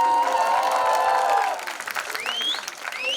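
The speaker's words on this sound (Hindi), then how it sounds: "जोरदार ताली बजाओ" Audience applause and cheering at a film trailer launch event, a steady clatter of clapping mixed with crowd noise and whistles, fading partway through as whoops and voices carry on.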